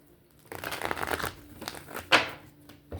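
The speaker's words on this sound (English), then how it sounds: "Let me do some decent shuffling." Tarot cards shuffled by hand, a close, crinkly burst of riffling and rustling followed by a sharper slap of cards, alone without talk.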